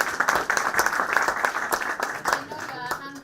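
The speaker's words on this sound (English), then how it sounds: "give them a round of applause" An audience applauds panelists at a Kenyan blockchain and crypto conference, with sharp individual claps and bursts of clapping rising and fading, and voices talking over the applause.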